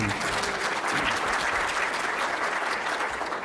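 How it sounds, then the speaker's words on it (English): An audience at a scientific conference session applauds its speakers, a steady moderate patter of many hands clapping that continues evenly throughout. "Let's have a round of applause for all the speakers."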